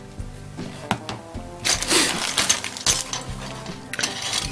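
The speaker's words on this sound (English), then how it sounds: "we're going to cut right into this bag" Scissors cut into a thin plastic bag holding 1969 Chevy Nova Yenko 1:25 scale model kit parts, with crisp crinkling and snipping in close bursts.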